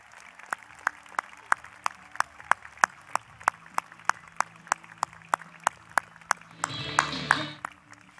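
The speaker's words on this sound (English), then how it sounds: "Let's give them all a round of applause." Audience at the 2019 Downingtown High School West commencement breaks into a brief burst of applause near the end, following a run of sharp, evenly spaced ticks.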